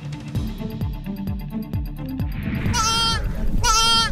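Goats at a ranch in North Salt Lake where a kid has just been born, with two loud, wavering bleats near the end over rhythmic background noise.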